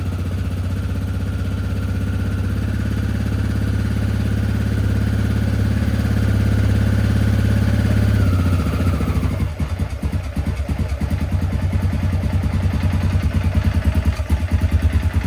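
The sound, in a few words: ATV engine idling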